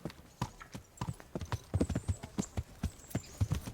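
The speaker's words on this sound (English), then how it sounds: "This is my horse." Hooves of a horse clip-clop in Kingdom Come: Deliverance, a steady, fairly close walking rhythm of sharp strikes with no voices over it.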